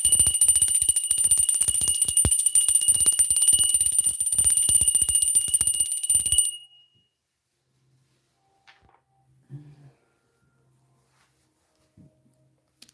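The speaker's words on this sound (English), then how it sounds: "I'm going to ring the bell." A bell rung once in a quiet room, its bright sustained ring holding steady for about six seconds before stopping abruptly, followed by near silence with a few faint small knocks.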